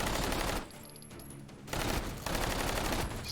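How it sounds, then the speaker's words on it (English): Rapid gunfire bursts in a shooter video game, with shotgun and rifle fire, loud and dense, cut by a brief quieter gap and then resuming, no talk over it. "Just popping the heads of the SO6 with the shotgun"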